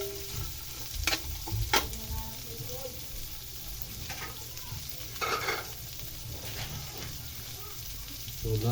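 Garlic stirred and frying in a pan for mung bean soup with moringa, a low steady sizzle with a few sharper scraping strokes of the spoon.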